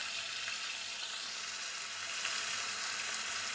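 Potato and pumpkin pieces fry in a hot pan, a steady, even sizzling hiss that holds without pause, close and alone.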